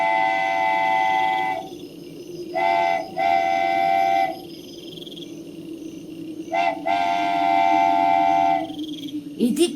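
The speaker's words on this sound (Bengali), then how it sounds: "তীক্ষ্ণ হুইসেল দিয়ে এগিয়ে আসছে মধ্যরাতের ডাউন ট্রেন।" A midnight down train approaches over a constant rumble of wheels. Its sharp whistle sounds in several long, loud blasts broken by short pauses, while crickets chirp faintly in the background.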